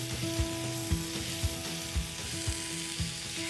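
Rosemary lamb steaks sizzle steadily in a hot pan, a soft crackling fry with regular louder spits and stirring thumps about twice a second, heard close with no talking.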